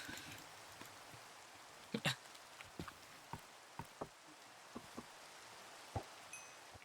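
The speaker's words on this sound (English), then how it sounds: "Oh no, it's raining." Rain falls in the Minecraft video game, a soft steady hiss with scattered quiet drip-like ticks and pops, no one speaking.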